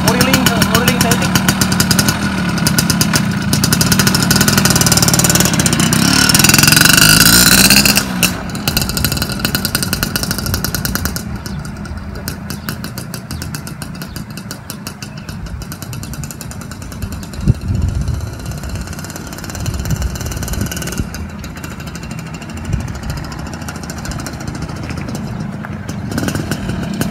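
A Suzuki Tornado motorcycle engine revs loudly for several seconds, then settles into a rough, rumbling idle with occasional blips of throttle.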